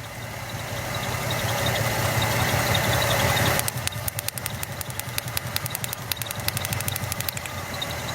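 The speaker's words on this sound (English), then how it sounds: "the engine starts idling really badly" A 2009 Chevy Malibu engine idles close by with a low hum, then turns rough and uneven once a spark plug wire is pulled, with rapid sharp ticking and snapping sparks over the stumbling idle.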